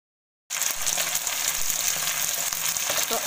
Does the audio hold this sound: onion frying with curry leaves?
yes